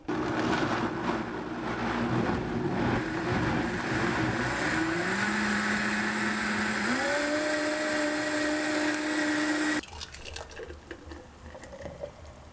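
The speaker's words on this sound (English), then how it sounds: "I'm going to be blending this up using my Vitamix that I've had for 8 years now" An eight-year-old Vitamix blender whirs through a meal drink, a loud steady motor roar that shifts pitch upward as the speed changes, then cuts off near the end into quieter rattling.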